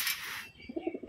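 A pigeon in a loft coos in a short series of soft, low pulses close by, following a brief burst of rustling noise.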